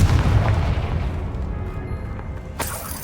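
A Confringo spell explodes in Hogwarts Legacy with a heavy, close boom whose low rumble rolls on and slowly fades, then a brief crackle at the end.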